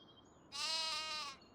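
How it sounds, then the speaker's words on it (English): Sheep in Farming Simulator 25 give a single drawn-out, wavering bleat lasting about a second, loud and close, with no talk over it. "So different ranges of sheep in here, adults, teens and babbies."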